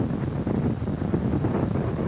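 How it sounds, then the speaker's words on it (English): A steady gust of wind buffets the microphone on the Oregon coast, a constant low rumble with faint surf-like wash throughout and no talking. "This is a nice gust."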